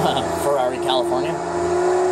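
A Ferrari California engine in the Forza Horizon racing game hums at a steady drone and revs slightly, loud and up front, while someone talks over it.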